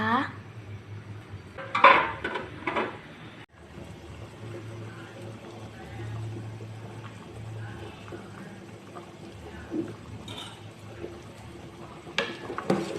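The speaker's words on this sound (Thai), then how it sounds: "เสร็จแล้วก็ใส่ซีอิ๊วดำลงไปค่ะ คนให้เข้ากันค่ะ" A spoon scrapes and clinks in a pot while dark soy sauce is stirred into a braised egg stew, with someone speaking over the soft kitchen noise.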